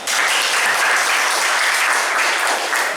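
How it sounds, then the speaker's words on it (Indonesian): A classroom of students gives a loud, steady round of applause for group 2 during a project-based religious education lesson, with dense clapping sustained evenly for about three seconds. "kita beri aplaus untuk kelompok 2."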